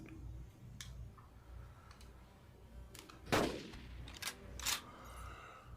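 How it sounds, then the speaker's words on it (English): Gunshot fired from a rifle in the dinosaur-hunting video game Carnivores: Dinosaur Hunt, one sharp loud crack with a short decaying tail, followed by a couple of fainter clicks and sharp transients over quiet game ambience. "and I'm going to fire."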